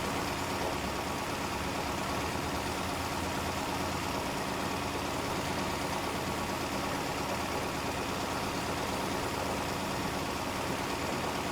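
A steady, loud, unchanging engine drone from a Big Bud 320 tractor in the Farming Simulator 15 video game, holding a constant rumble with no talking.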